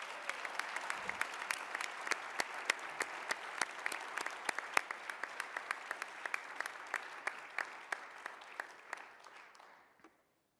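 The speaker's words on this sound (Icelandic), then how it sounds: "Gefum henni gott klapp og til hamingju" Audience applause for an award recipient at the Akureyri sports awards ceremony, a steady round of many hands clapping for about ten seconds, with a few sharper claps standing out before it fades and stops.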